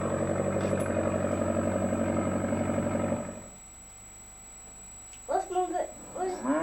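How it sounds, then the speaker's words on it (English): Low, steady tractor engine idling with a dense throbbing hum for about three seconds, then cutting out; a voice and other talk follow near the end. "I've got a tractor."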